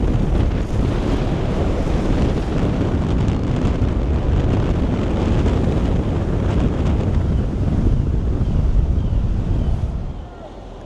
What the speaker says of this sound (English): Look at the waves crashing.